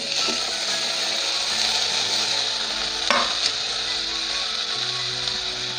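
Onion, tomato and garlic frying in a pan while being stirred, a steady broad sizzle with occasional scraping knocks of the spoon against the pan, close and continuous with no talking.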